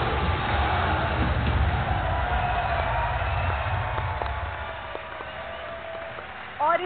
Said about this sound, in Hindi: अब तक की बेशुमार तालियों